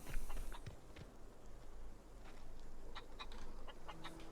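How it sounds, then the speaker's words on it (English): A chicken in the video game The Outer Worlds clucks faintly in short, scattered bursts over a low ambient background, with no voices. "Chicken!"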